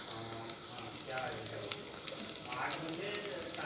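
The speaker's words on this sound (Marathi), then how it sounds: "आता आपण यामध्ये फ्लावर, टोमॅटो आणि शिमला मिरची टाकणार आहोत" Cauliflower, tomato and capsicum sizzle over browning onion in a pot while masala rice is being cooked. The hiss is continuous and fairly soft, with small crackles and spatters scattered throughout.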